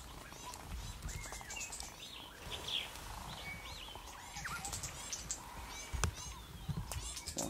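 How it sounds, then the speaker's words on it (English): A bird calls repeatedly during a display, faint chirps and whistles scattered over steady outdoor background noise, with quiet voices talking now and then. "What kind of bird is that? Making that noise."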